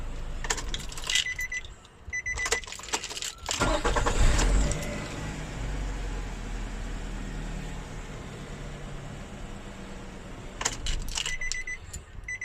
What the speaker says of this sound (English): let's start it and let's see the performance of the starter